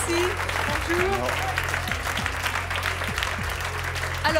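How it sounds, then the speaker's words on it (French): Studio audience applause on a French television talk show, a busy patter of clapping heard under people speaking. "Je crois que certains ont applaudi un peu trop vite."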